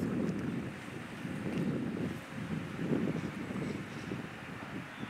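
Wind gusts across an outdoor disc golf course during a tournament round, a steady low roar and buffeting against the microphone that swells and eases with no voices.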